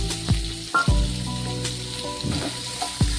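Chopped onion and green chili dropped into lightly heated white oil, giving a lively close sizzle with a few clinks of a utensil against the pan.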